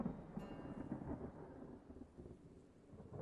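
A thunderstorm rumbles in Talewarden: Riders of the New Day, with low rolling thunder and a steady wash of wind and rain, no voices.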